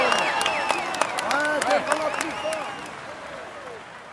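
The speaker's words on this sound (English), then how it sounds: "Come on, let's applaud him once more." A crowd applauds the yellow jersey rider at a Tour de France stage finish in Andorra Arcalis, with dense clapping and scattered cheers and whoops that gradually die down.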